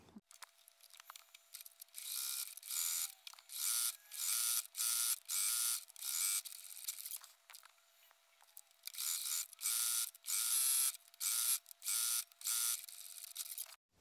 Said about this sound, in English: we're going to basically sew along each edge where the pins are.